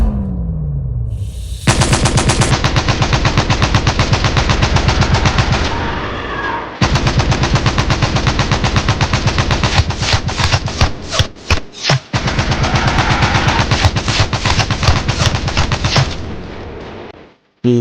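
A handheld gun fires in long sustained bursts of rapid shots, loud and close, with brief pauses and a few isolated reports between volleys, no talk.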